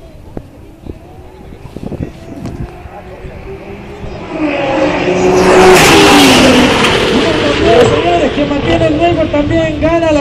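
A Nissan GT-R 35 launching on a quarter-mile drag strip at a racing event, its engine rising from a distant rumble to a loud, building roar that peaks midway and holds, with an announcer talking over the start.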